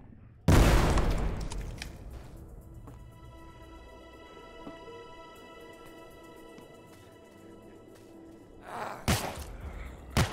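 Gunfire in the game Forgive Me Father: a loud blast opens, then quieter game ambience, and a few more sharp shots come near the end.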